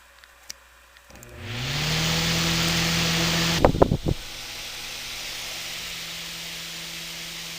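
A small, weak 9.3-watt fan motor salvaged from an old 1987 microwave spins up after a second of quiet, rising to a steady whir with airy blade rush, then gives a cluster of rattling knocks and settles to a softer hum.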